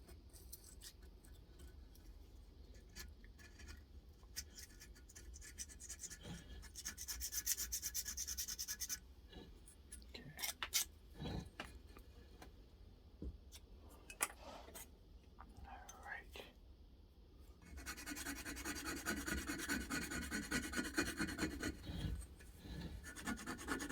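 A tool scrapes caked-on, old-gasoline-soaked gasket residue from a Suzuki TS125 two-stroke cylinder, close scratchy rasping in uneven bursts and longer strokes, with quiet muttered speech.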